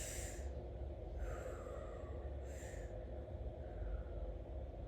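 Slow, deep breaths during a yoga flow, with three soft airy inhale or exhale swells over a steady low background hum and no talking.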